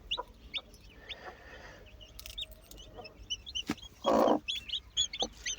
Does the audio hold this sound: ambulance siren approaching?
no